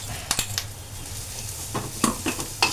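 Roasted coconut chutney frying and being stirred in a pan in a home kitchen: soft steady sizzling with a few brief scraping strokes of the spoon, fairly quiet with no talking.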